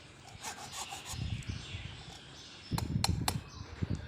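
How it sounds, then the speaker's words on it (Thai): A hacksaw blade rubs and rasps against a carved wooden knife handle in short uneven strokes, scraping close by, with a few light taps between passes. "ก็ใช้มีดก็ใช้เลื่อยตัดเหล็กนี่นะครับถูถู ถูถูเข้าไป"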